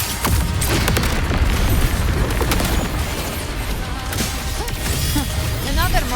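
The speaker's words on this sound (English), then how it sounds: "Another mortar thrown at us." Mortar explosions in the Wuthering Waves video game, a series of loud booming blasts and crashes with game music and effects continuing throughout, close and dense with no speech.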